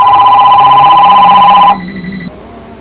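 A loud electronic telephone ring trills steadily close by, then cuts off abruptly partway through, leaving a fainter tone that fades out; no voices.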